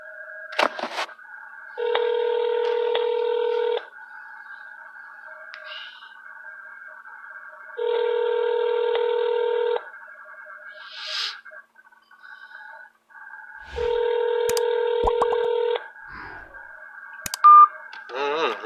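Telephone tones on a call: three long electronic tone bursts sound about six seconds apart over a thin, steady line tone, with a few brief clicks and rustles between them.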